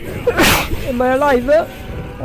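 A single sharp sneeze bursts out near the start, followed by a person speaking in a breathy, surprised tone.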